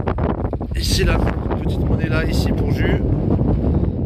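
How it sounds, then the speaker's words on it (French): Strong gusts of wind buffet the microphone continuously outdoors during metal detecting while a person speaks close by. "désolé pour le vent, ça souffle pas mal"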